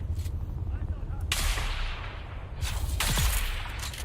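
Gunfire in the video game Dune Awakening: several loud, sharp bursts of shots in quick succession, separated by brief lulls over a continuous low rumble of game background noise.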